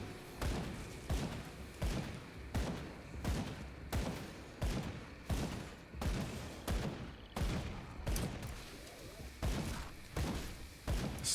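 Rapid, evenly spaced pistol shots from dual-wielded guns in the action RPG Grim Dawn, loud and close with punchy thuds over layered game effects, continuing without pause.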